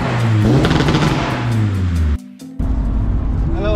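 A Honda car engine is revved hard against its rev limiter in a garage shed, loud and close, the pitch sweeping up and bouncing, dropping out briefly after two seconds before the revving roars back in.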